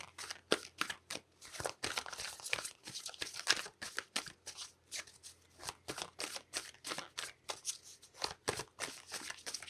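Tarot cards shuffled by hand, close and fairly quiet: a long run of quick papery riffles and flutters in uneven bursts with short gaps between them and no talking.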